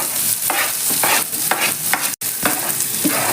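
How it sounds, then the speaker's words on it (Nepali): Ginger garlic paste sautéing in hot oil in a pan, a close, steady sizzle with repeated scraping stirs of a spoon. "अलिकति यसलाई हामी सोते गर्छौँ"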